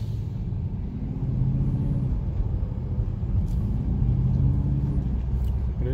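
A 2006 Bentley Arnage T rolls over railroad tracks, giving a steady low road rumble from inside the cabin with two soft surges of heavier thumping as the wheels cross the rails.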